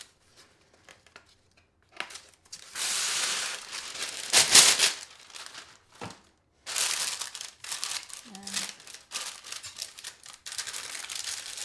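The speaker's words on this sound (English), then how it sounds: "I'm going to add a little bit of parchment paper" Parchment paper crinkles and rustles in bursts, loud and close, with short quiet gaps between handling.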